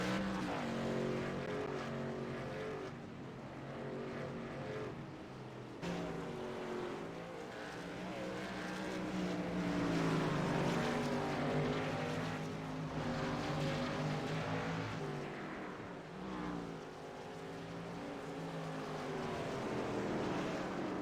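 Race cars roar around a track in a continuous loud engine drone, pitch sweeping up and down as cars pass and jockey for position, with no talk over it.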